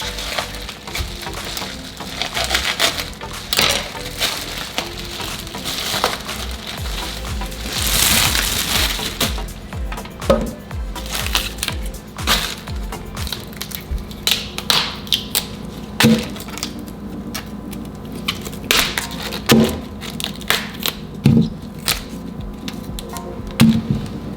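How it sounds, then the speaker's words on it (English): A knife cuts a whole cauliflower into florets, making repeated crisp snaps, crunches and board taps in irregular bursts, close and fairly loud, with no talking. "So I'll take my whole cauliflower and cut it into florets."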